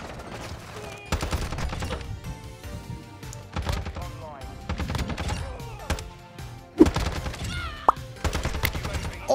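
Hemlock rifle gunfire in Modern Warfare II, loud bursts of shots spread across the clip with brief pauses, under a player's talk.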